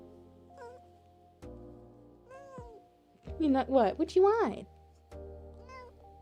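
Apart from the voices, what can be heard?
quiet meowing of an old pet cat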